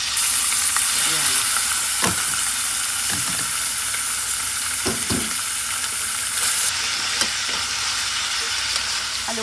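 Pork fries in a pan with a loud, constant sizzle and hiss. A spoon stirs through it now and then with soft scraping knocks.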